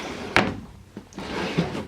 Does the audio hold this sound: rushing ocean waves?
no